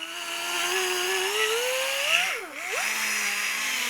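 A high-speed power sander works on marble stone with a loud, close, steady whine whose pitch slowly rises, dips sharply under load, then settles back to a constant drone.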